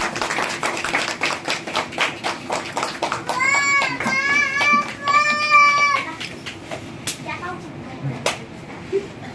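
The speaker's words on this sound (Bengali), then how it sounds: "করতালির মাধ্যমে।" An audience at an exhibition opening ceremony claps in a loose, steady rhythm of distinct hand claps, with wavering, high, voice-like calls rising over the clapping in the middle.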